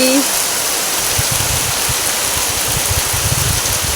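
First rain of the season falling as a steady, dense hiss, with soft low thumps scattered through it from start to finish.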